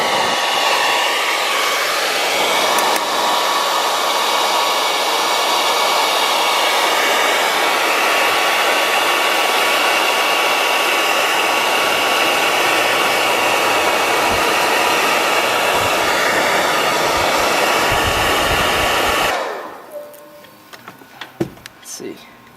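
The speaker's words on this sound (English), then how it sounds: "Got a hair dryer." A hair dryer blows loudly and steadily for about twenty seconds while heating window tint for removal, a constant broadband whoosh with a faint whine, then cuts off abruptly into near silence.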